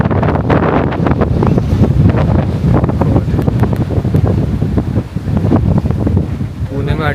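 Strong wind buffets the microphone in the hills of Mulshi near Pune, a loud continuous roar of rumbling gusts throughout, drowning out other sound.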